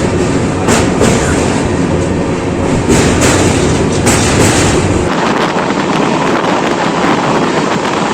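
An express train crosses a bridge with a loud, continuous rumble and rattling clatter of wheels and cars, close by and steady throughout.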